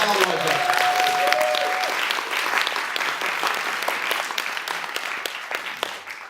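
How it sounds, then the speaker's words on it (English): An audience at an evening poetry performance in an Edinburgh museum breaks into loud, dense applause that fills the room and eases off slightly toward the end. "massive round of applause"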